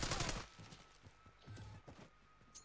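Quiet burst of rapid automatic gunfire from Call of Duty Black Ops 6 multiplayer, a dense volley at the start followed by scattered softer shots and clatter.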